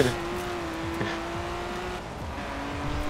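Stock cars racing in circles and ramming each other in Forza Horizon 4, with steady engine drone, revving pitch shifts and occasional tire squeal continuing without pause.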